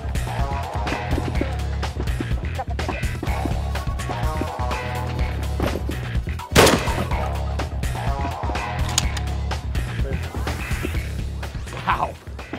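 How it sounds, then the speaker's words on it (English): A 12 gauge slug is fired into a lightweight synthetic ballistic armor plate at six yards, giving one loud, sharp impact crack midway through over a steady background rumble. "we're gonna be shooting a 12 gauge slug into the, uh, the ballistic plate at six yards"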